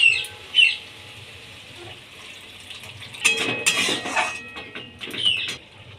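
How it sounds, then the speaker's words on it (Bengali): A small amount of water is poured into a cooking pan of fried mung dal and drumstick flowers, making a short splashing burst with clinks of metal and kitchen clatter around it. "এবার আমি সেদ্ধ হওয়ার জন্য অল্প পরিমাণে জল ঢেলে দেবো"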